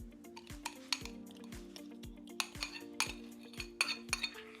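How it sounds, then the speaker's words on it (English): A spoon scrapes and clinks around a bowl as a liquid mixture is stirred into self-rising flour for cheddar cheese muffins, giving steady repeated strokes with sharp metallic ticks, close and fairly quiet, with no talking. "We'll stir that liquid mixture in with our self-rising flour."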